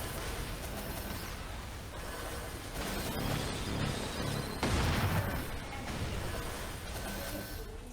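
A Thunder Breaker's torpedo skill from the game MapleStory fires as a dense, continuous wash of booming, crackling blasts, loud throughout and swelling into a heavier burst midway through.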